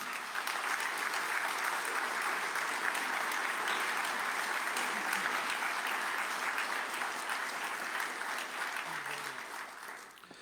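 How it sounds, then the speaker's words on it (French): An audience at a mayor's New Year greetings ceremony in a town hall applauds the municipal team, a long, even roar of many hands clapping that stays steady before fading slightly at the end. "Je crois qu'on peut les applaudir"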